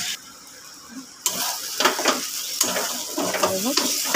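Pointed gourd stir-frying with cashew and coconut in a pan, a quiet lull and then steady close sizzling with repeated scraping stir strokes, growing busier toward the end.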